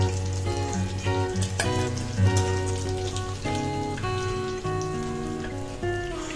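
Bata fish frying in hot oil as pieces are lifted out and drained, with a dense crackling sizzle like rain on a surface, close and steady, with a tonal musical background underneath.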